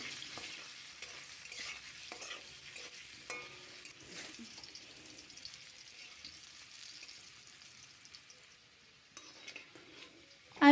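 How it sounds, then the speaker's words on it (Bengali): Potato pieces frying in mustard oil with salt and turmeric, a faint steady sizzle with soft stirring scrapes, then a louder clatter at the very end. "লবণ আর হলুদ দিয়ে আলুটা লাল লাল করে ভেজে নেব"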